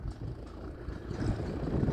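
Two farm tractors, one a John Deere, pull in with a steady, low diesel engine rumble that holds close and loud throughout, with no one talking.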